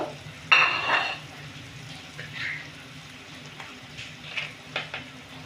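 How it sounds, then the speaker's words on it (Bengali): Tomatoes fry in a pan while being stirred, a loud burst of sizzle near the start easing into a steady low crackle with scattered soft scrapes of the spoon. "তো চলুন টমেটোটাকে একটু ভালো করে নেড়ে নিই"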